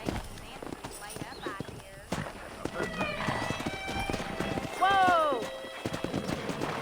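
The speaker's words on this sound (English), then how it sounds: "Let's see if we can't wrangle some horses." Horse hooves clip-clop near and loud during horse wrangling in Red Dead Redemption, with whinnies and neighs rising over the trotting and someone shouting between the hoof beats.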